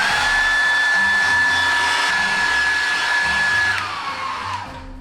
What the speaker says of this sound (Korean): 이거를 일단은 드라이기로 조금 말린 다음에 옷에다가 바로 붙여볼게요